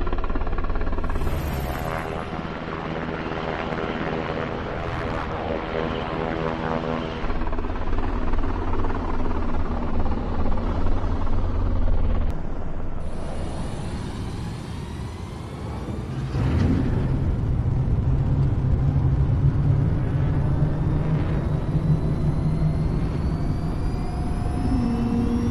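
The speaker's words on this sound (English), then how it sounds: "they recorded a helicopter and a jet engine" A helicopter and a jet engine recorded by the Halo Infinite audio team give a loud, continuous roar of engine and rotor noise that swells and shifts in tone across the whole stretch, with no voices.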